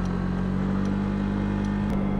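A continuous, steady engine drone from a Honda Giorno moped scooter while riding, humming evenly at a constant pitch with wind-like noise throughout.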